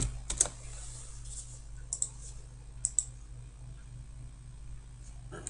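Quiet clicks of typing on a computer keyboard come in a few sparse bursts, faint and close, over a low steady hum with no talking.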